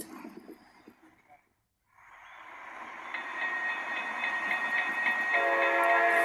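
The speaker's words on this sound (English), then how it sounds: "There is a toy train signal again." A toy train signal from a train video game plays: after a brief silence, a rising, sustained horn-like tone with steady harmonics swells and grows louder, ending with an added higher chord near the end.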